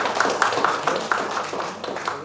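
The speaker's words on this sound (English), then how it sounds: "Please give a huge round of applause for Honorable Gade sir." An audience claps for the guest Gade sir at a felicitation ceremony, a moderate round of rhythmic hand clapping in a hall with faint voices underneath.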